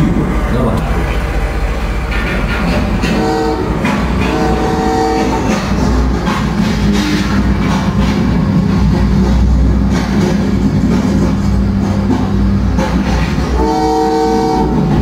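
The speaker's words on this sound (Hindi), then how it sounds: "कुछ देर पहले आई मालगाड़ी अब सामान लाकर पुराने स्टेशन की ओर रवाना हो गई।" Model freight train departing on the Joshi Rail Town model railway, a continuous loud rolling rumble with repeated horn-like tones near the start, middle and end.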